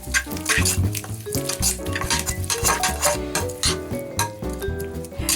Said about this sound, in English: Then we'll mix.